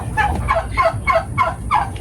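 A turkey gobbles repeatedly in quick rhythmic bursts, close and clear, with a low rumble of background noise underneath.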